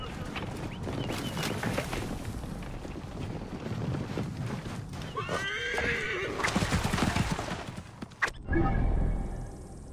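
A horse in the Assassin's Creed Origins video game whinnies loudly and gallops with rapid clip-clop hoofbeats, over wind noise and a busy game mix, ending in a sharp thump and a brief burst.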